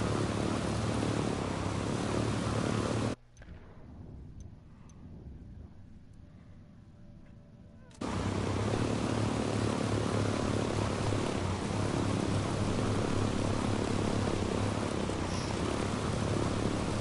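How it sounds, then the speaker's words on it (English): Aircraft flying overhead in Ghost Recon Wildlands, a loud, steady broadband engine roar that drops away for several seconds before returning at full strength. "Is that a plane or a helicopter?"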